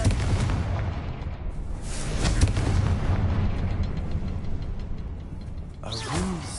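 A Confringo fire spell blasts and explodes in the Hogwarts Legacy video game, a loud continuous booming roar with crackling bursts and rumbling debris that fades slightly at the end.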